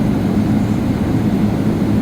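Boeing 777-300ER jet engines running steadily on the ground before takeoff from runway 28L at San Francisco, a loud continuous low rumble and roar with no breaks and no talk.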